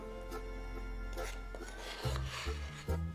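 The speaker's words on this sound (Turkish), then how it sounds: "çırpma işlemine devam ediyorum" A whisk scrapes and rasps steadily against a pot as starch is beaten into pelte, a Turkish grape pudding, on the stove, with a few firmer knocks against the pan near the end; no one speaks.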